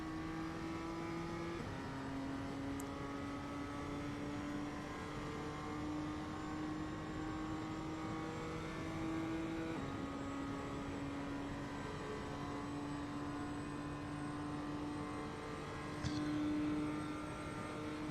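BMW M2 race car in iRacing on the Daytona road course, its engine droning steadily as it picks up throttle in fifth gear, a sustained close exhaust tone with slowly rising pitch and a brief shift near the end.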